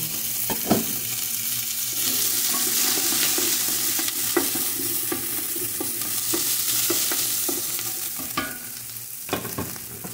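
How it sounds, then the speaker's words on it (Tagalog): Plenty of chopped white and red onions stirred in a pan over heat for a goat trotter tamarind stew, giving a steady sizzle broken by repeated scraping and clacking of a spoon against the pan, close up. "At hinalo ko yung puti at saka pulang sibuyas."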